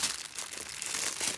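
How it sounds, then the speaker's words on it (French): Plastic packet crinkling steadily as it is torn open, a dense continuous rustle up close with no pauses. "Alors ouvrons le deuxième paquet."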